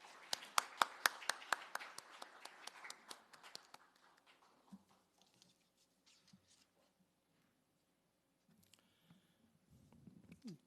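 A seminar audience welcoming a speaker with a few seconds of scattered, fairly close applause that thins out quickly, followed by quiet room noise and faint rustling.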